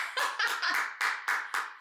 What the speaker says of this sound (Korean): 희주 앞날에서 박수 한번 쳐드릴게요.